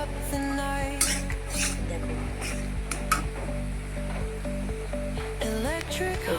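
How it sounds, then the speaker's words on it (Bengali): Spices fry in a pan for a soybean and potato vegetable curry, with a soft sizzle under repeated clinks and scrapes of a metal spoon against the pan, alongside a steady tonal background hum. "মশলাগুলো দিয়েছি তাই ভেজে নিতে হচ্ছে ভালো করে"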